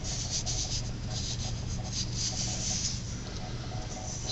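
Steady rasping scrape of a rasp filing a machete blade, continuous and close, with repeated strokes blending into a constant rough rubbing texture and no talk.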